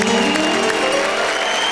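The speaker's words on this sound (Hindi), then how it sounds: "जरा जोरदार तालियां बताइए" A live audience at a poetry recitation claps loudly and steadily for a poet, a dense continuous wash of applause with no break.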